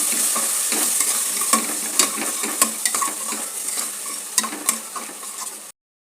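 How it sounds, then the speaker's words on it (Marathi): Ground tomato stirred into onion and green masala in a hot pan, with a steady bright sizzle and repeated scraping clicks of a spoon against the pan, close and alone. "याला आपण चांगलं परतून घेऊया."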